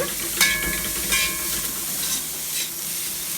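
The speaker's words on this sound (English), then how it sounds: "Stir fry that. People are time for dropping the shrimp." Shrimp stir-fry in a hot pan for a Jamaican-style shrimp pasta, with a continuous loud sizzle and hiss broken by a few scraping stirs. No one speaks.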